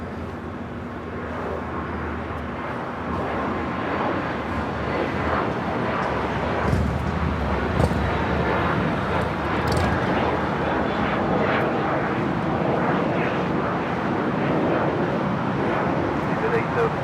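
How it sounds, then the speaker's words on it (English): A United Boeing 787 Dreamliner arrives at LAX as flight 935 from London Heathrow, its engines a steady, loud broadband jet roar throughout, with someone talking over it. "United Dreamliner. This is United 935 coming in from London Heathrow."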